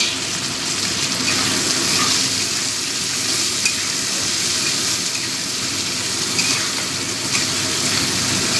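Tomato hitting hot oil over fried onion, ginger, garlic and green chilli, a loud continuous sizzle with spatula scraping and stirring close to the pan for several seconds.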